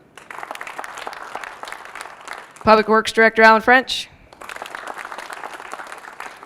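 Audience applause breaks out at a city State of the City event, a burst of several clapping surges lasting about a second and a half, with talk from a speaker before and after.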